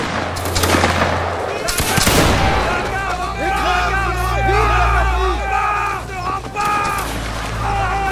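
Volleys of rifle fire from a squad firing on command at a bush line, sharp bursts layered over background crowd noise and shouted orders, loud and close throughout.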